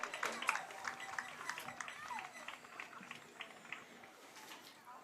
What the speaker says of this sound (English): Let's have a round of applause for the ECC Division I champions, Waterford High School.